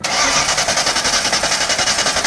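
A neglected, abandoned Mustang-based car's engine cranks on its starter, a fast rhythmic whirring chug repeating steadily and loudly for the whole short stretch without catching, with no voices.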